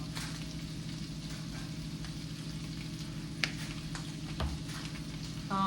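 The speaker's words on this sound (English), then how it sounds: "I'm just gonna let this cook. I'm gonna stir it around in the pan." Chickpeas seasoned with steak blend, Italian seasoning and garlic salt fry in a pan with a steady, even sizzle, broken by a few faint clicks of stirring, close and without talking.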